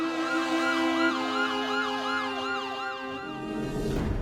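Ambulance siren wailing in a steady, repeating rising-and-falling cycle, loud and close, with a constant electronic tone underneath until it cuts off near the end.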